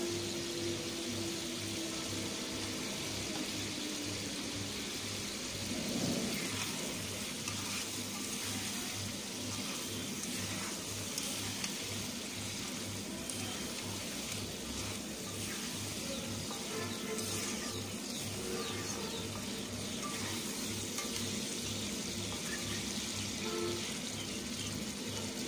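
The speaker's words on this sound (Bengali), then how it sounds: "তো আমার ডিমগুলো দিয়ে মশলার সাথে ভালো করে নেড়ে চেড়ে নিলাম।" Halved boiled eggs frying in spice masala, a faint steady hiss of cooking with a low pulsing background hum and an occasional soft stirring scrape, quiet and continuous.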